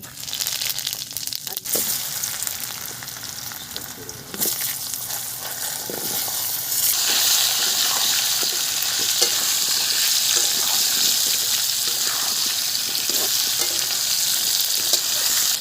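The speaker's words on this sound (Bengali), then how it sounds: "ফোড়নে দিয়ে দিচ্ছি গোটা গরম মশলা জিরে" Whole garam masala and cumin seeds sizzle in hot oil for a Bengali dish, a close, continuous frying hiss with occasional stirring knocks from a utensil. The sizzle swells louder about halfway through and holds steady, with no talking.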